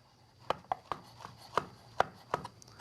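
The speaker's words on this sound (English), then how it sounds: "We're just going to finely chop those up, or roughly chop those up." A knife roughly chops portobello, cremini and oyster mushrooms on a cutting board, about eight crisp, close thuds in an uneven quick rhythm, with no talking over them.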